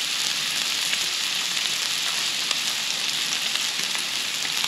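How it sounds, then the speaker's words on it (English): A sous vide ribeye steak sears in a hot pan, producing a loud, even, continuous sizzle and hiss up close, with no voices. "We're really looking for a nice sear on this."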